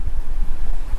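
Outdoor wind gusts buffet the microphone beside a 13 ft Scamp travel trailer in March, a steady low rumbling roar with no speech.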